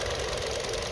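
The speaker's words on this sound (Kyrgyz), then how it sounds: "Мотордун үнүн добушун көрүп атасыздар." A 2019 Kia K3 with a 1.6 petrol engine idles with the bonnet open, giving a brief, steady, even mechanical hum up close.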